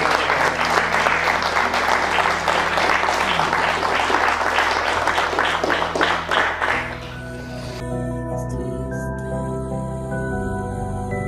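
Sustained applause from a conference audience at a Blender Italia gathering, dense steady clapping that fills the room for about seven seconds before thinning and fading under lingering hall tone.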